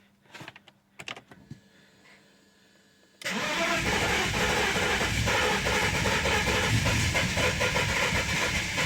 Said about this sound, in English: this is the moment of truth. I'm pretty confident it's going to start